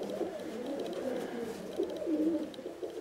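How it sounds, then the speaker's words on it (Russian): Uzbek double-crested pigeons coo softly and continuously in a loft, several low rolling calls overlapping at close range. "Вот узбекские голуби."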